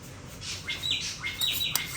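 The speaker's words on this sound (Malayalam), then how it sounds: "ആ കിളികൾ കൂടടയുന്നുണ്ടല്ലോ" Birds chirp outdoors in a few light, high tweets scattered over two seconds. The calls are moderately near but soft, over a quiet background hiss.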